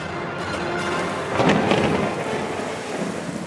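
Steady rain falls while a deep rumble of thunder rolls through the middle and fades, creating a dense, enveloping storm atmosphere for a radio drama.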